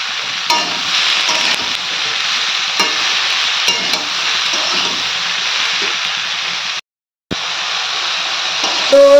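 Cauliflower curry, made with fresh yellow cauliflower, sizzles and fries steadily in a pan with repeated stirring scrapes. The sound is close and continuous, drops out briefly near the end, and carries no talk.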